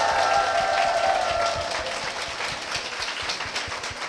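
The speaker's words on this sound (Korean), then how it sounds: "박수 부탁드립니다" An audience in a church setting breaks into steady applause, dense and moderately loud, with a faint tone lingering early and low rumbling underneath.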